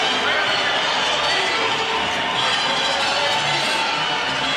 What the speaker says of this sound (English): And a very good applause indeed for Barrera as he enters the ring